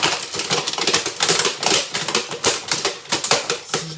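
A plastic box shaken by hand gives a dense, irregular rattling clatter of loose contents knocking inside, loud and close, with no talk.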